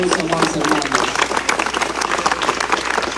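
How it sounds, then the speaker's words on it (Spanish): A crowd claps steadily throughout at an outdoor inauguration of new paving in a Guatemalan village, the dense applause running continuously with voices mixed in. "van a brindar fuertes aplausos a ese Dios Todopoderoso"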